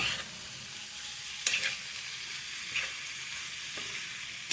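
Radish curry with lentils is stirred in a pan over steady, close sizzling, with a few sharp spoon scrapes against the metal at irregular intervals and no voices.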